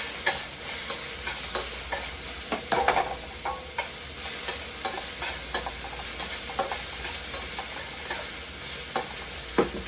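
Garlic paste and onions stir-fry in a pan for fried rice, giving a steady close sizzle broken by sharp scraping clicks as a utensil stirs and tosses the food, with no talking.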